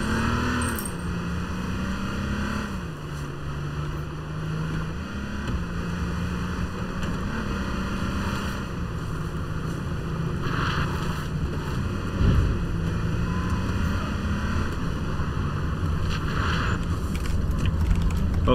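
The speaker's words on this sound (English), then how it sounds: "there's a car over here." A droning video game car engine hums steadily, its pitch rising and falling as it revs and shifts, with faint clicks and game-like effects over the top.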